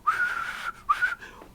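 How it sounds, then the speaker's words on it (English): A person whistling two short, slightly rising notes, close and clear, the second trailing off into a soft breathy tail, with no talking. "I can't even whistle."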